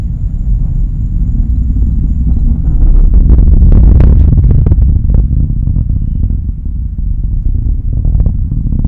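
A Falcon 9 rocket carrying a Dragon capsule on the CRS-1 mission roars through ascent near maximum aerodynamic pressure, a loud, deep rumble that swells to a peak midway before easing slightly, heard from afar.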